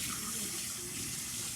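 A faucet runs steadily into a basin, producing a continuous splashing hiss of water with no pauses.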